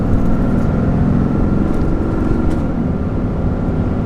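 A RAM 3500 Big Horn Regular Cab with a Cummins diesel accelerating, its heavy low engine rumble steady and loud from close range, building slightly, with no talking.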